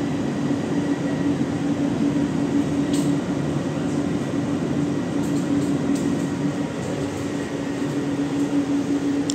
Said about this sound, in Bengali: আমরা আসছি এখন যশোর রোড মেট্রো স্টেশনে ঢুকছি।